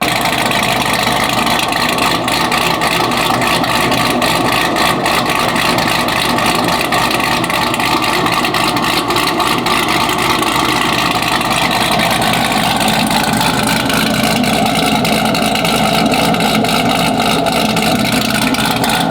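A Chevrolet Camaro ZL1 with a heads and cam package runs continuously, a loud, dense engine drone with a choppy, lumpy idle texture holding steady throughout, with no voices.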